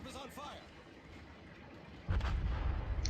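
Warship guns firing during a World of Warships battle, a deep booming salvo rumbling in near the end under a voice talking.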